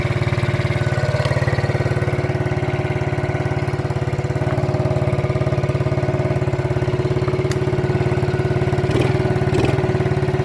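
A dead-battery ATV started by reverse-drilling the magneto now idles steadily, its low engine rumble running loud and close throughout with an even, unbroken rhythm and no voices over it.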